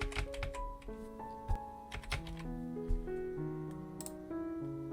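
Keys tapped on a computer keyboard while entering a measurement in pattern CAD software, a quick irregular run of close clicks over a soft background tone.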